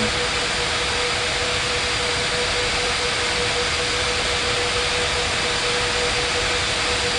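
An All Nippon jet airliner takes off from runway 21 right, heard as a steady, broad roaring hiss of jet engines with a faint constant whine, uniform and continuous throughout with no voices.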